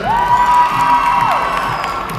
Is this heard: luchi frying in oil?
no